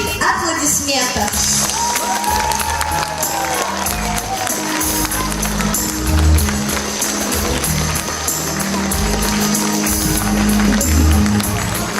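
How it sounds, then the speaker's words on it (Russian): Loud, sustained applause and cheering from a theatre audience for a children's inclusive musical performance by a Moscow music studio, dense clapping mixed with crowd voices throughout. "Они, конечно же, достойны громких аплодисментов."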